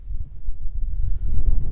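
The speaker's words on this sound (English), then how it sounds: "it's a little windy out here" Wind blows outdoors beside a Peterbilt flatbed truck, a steady low rumbling buffet against the microphone that swells slightly in gusts.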